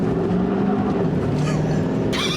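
A 2020 Chevy Silverado 2500 HD Duramax diesel pickup with a 10-speed Allison transmission accelerates hard, a loud, steady engine roar with rising tones that stays close throughout.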